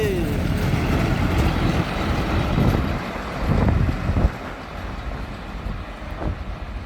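Railway maintenance vehicles, a ballast tamper and a ballast regulator, rumble past on the track as a steady loud mechanical roar, swelling in heavy bursts partway through, with some background chatter.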